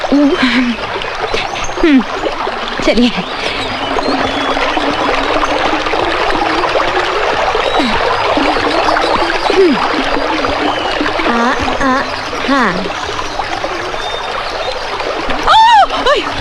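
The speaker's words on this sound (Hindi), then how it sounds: "नदी को पार जो करना पड़ेगा" People wade on foot across an icy cold river, water splashing and churning continuously with sloshing surges, close and loud, while voices speak briefly over the rushing water.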